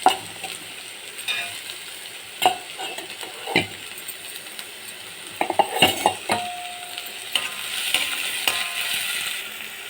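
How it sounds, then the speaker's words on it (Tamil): Chopped onions with salt frying in a pan, stirred with a spatula that scrapes and clinks at intervals over a steady close sizzle, with no talking. "வெங்காயத்துக்கு தேவையான அளவுக்கு உப்பு போட்டு நல்லா வதக்கி"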